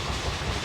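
An express train running at about 108 km/h produces a dense, continuous rumble with rail clatter and a hissing roar, steady and loud throughout.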